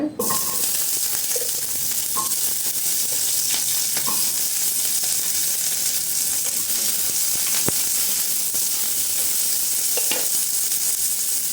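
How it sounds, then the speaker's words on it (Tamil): Small shallots hiss steadily in a hot pan, a close and constant sizzle with occasional soft scrapes and clicks of stirring, going on for the whole stretch. "இப்போ இதுலேயே வெங்காயத்தை போட்டுக்கலாம் சின்ன வெங்காயத்தை"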